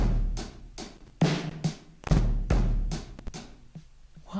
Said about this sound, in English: the Super Lo-Fi drums sound like this.